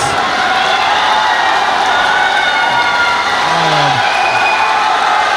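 Boxing arena crowd after an eight-round super lightweight title bout, a broad wash of cheering, clapping and whoops roaring steadily throughout, dense and loud with no clear pauses.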